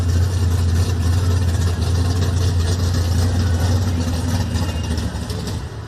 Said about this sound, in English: looks like they gotta bring the tractor out